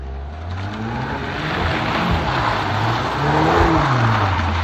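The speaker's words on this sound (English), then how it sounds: "as you can see, it does let you do like a little donut" Volkswagen Mk8 Golf R spinning a donut, its engine revving steadily and loudly with rising and falling pitch sweeps and a constant rush of tire and wind noise, no talk.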